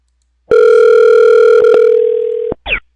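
A loud steady telephone tone sounds for about two seconds, with a brief click partway through. It ends abruptly and is followed by a short rising chirp.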